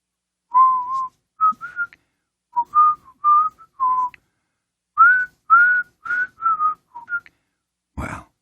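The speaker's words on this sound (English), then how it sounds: "I'll rehearse my whistling for next time." A person whistles a halting melody of short, clear, tonal phrases with gaps between them, close and solo in a quiet room, ending with a brief bump.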